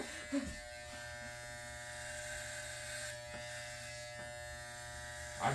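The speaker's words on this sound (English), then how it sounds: "my clipper" An electric hair clipper hums with a steady, thin motorized buzz during a haircut, fairly quiet and continuous, with a couple of soft knocks at the start and end.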